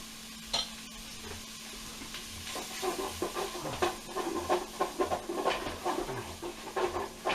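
Butter sizzles in a pot of chili while a utensil stirs, starting as a quiet steady fizz and building into rhythmic scraping strokes over the crackle, close up and unvoiced.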